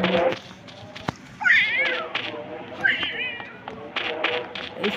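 A cat meows twice with rising, wavering cries in a zombie video game, mixed in among background chatter and household noise.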